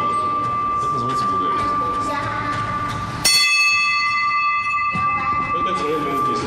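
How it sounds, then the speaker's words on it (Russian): The largest bell of a church belfry rings during the slow, widely spaced peal that calls people to service, a steady sustained tone with a fresh strike partway through, heard beneath ongoing speech. "Самый большой колокол."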